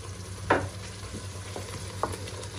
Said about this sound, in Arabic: دلوقتي هنزل بقى بالبتنجان والفلفل على التخديعه بتاعتنا الجميله دي.